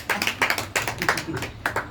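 An audience at a training program claps for an honoree, a run of rapid, fairly close hand claps in uneven bursts with brief gaps.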